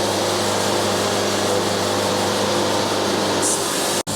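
A sawmill blade cuts through a walnut log with a loud, steady, broadband whine and hiss that runs unbroken and ends in a sharp click.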